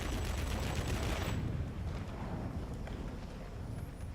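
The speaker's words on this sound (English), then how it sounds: "So this is a blip gun, really." Rapid gunfire from the P.1096 plane's guns in the World of Warplanes flight game, a dense continuous rattle that holds steady and fairly loud for the whole stretch, easing slightly after the first second and a half.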